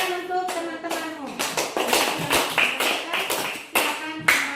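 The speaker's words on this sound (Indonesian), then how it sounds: "Ya, tepuk tangan untuk teman-temanmu." A classroom of children bursts into applause, many hands clapping in a dense, uneven patter that swells and fades over several seconds.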